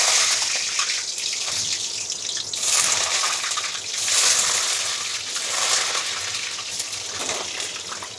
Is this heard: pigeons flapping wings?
no